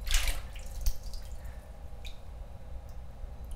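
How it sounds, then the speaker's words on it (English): A drinking glass dipped into water, with a brief splash and clink at the start followed by scattered light drips and trickles. "So we dip the glass in here."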